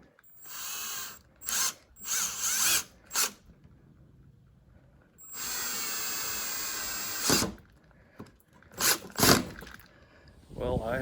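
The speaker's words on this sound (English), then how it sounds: "I'll do my larger drill hole for the screw head" A power drill bores a larger hole for a screw head in hard, repurposed grain box wood, with several short, loud whirring bursts, one longer sustained run, and quiet pauses between them.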